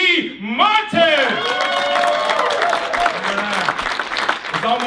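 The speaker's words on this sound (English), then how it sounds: "I want to hear the loudest cheer you can do." Large audience at an economic summit bursts into loud applause and cheering for David E. Martin, with whoops and shouts rising over sustained clapping, a loud hall crowd that stays steady throughout.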